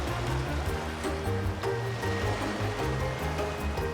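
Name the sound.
waves on Lake Huron beach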